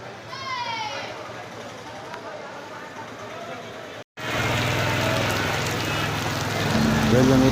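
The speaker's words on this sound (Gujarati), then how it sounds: "માર્કેટિંગ યાર્ડમાં જોરદાર વરસાદ ચાલુ થઈ ગયો છે" Heavy rain pours down on a marketing yard in Rajkot in a dense, steady hiss that grows louder partway through, with people talking under the downpour.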